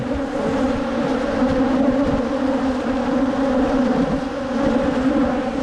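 A swarm of bees drones in a dense, continuous buzz close around, loud and unbroken for several seconds with no other sounds.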